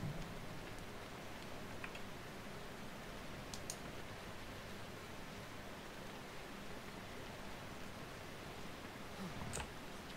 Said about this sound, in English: Now raining blood